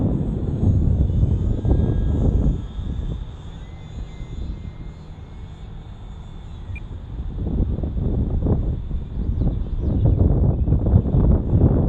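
A UMX Timber model airplane flies in gusting wind of 8 to 17 mph, its small electric motor whining thinly under a steady rush of wind noise that swells and eases.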